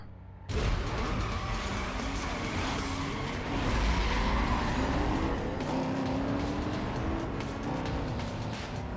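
A video game race car roars continuously, its engine note climbing and dropping through gear shifts, loud and close with a brief tire squeal, and no talking over it.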